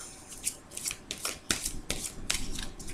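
Tarot cards are cut and drawn from the deck in a quiet run of crisp paper slaps and sliding rustles, arriving as short irregular bursts close to the listener.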